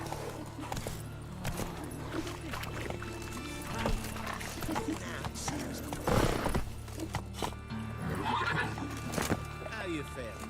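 Geralt's horse Roach in The Witcher 3 video game neighing loudly amid steady hoof clip-clops, with people talking over the scene and a low ambient hum underneath.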